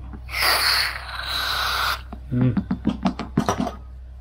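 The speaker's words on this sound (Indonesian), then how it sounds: "Kita semprot dulu ya." Aerosol cleaner is sprayed onto a hot Tamiya Mini 4WD motor during break-in: one close, loud, steady hiss lasting under two seconds, then a voice talking in short bursts once the spray stops.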